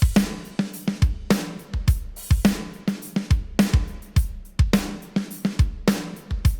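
Processed drum kit playing a beat through a drum bus, punchy kick and snare hits repeating in a steady driving rhythm with cymbal wash, loud and close with no voices.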